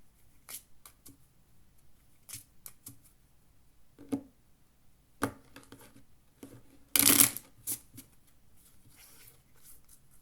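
Playing cards handled and shuffled during a poker game, quiet scattered flicks and taps with one louder riffle burst near the end.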